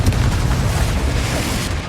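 A Bombarda spell blast in the video game Hogwarts Legacy: a loud, deep, rumbling boom that fills the whole moment with little decay.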